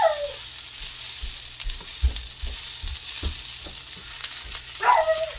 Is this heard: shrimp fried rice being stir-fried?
yes